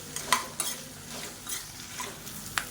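Urad dal and lentils roasting in a pan give a faint, low hiss, broken by a few sharp clinks of a spoon stirring against the metal.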